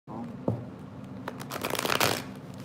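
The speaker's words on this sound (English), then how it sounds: "Go ahead and do a really fast shuffle." A deck of tarot cards is shuffled fast, giving a brief burst of close, crisp riffling and flapping that builds to a quick flurry.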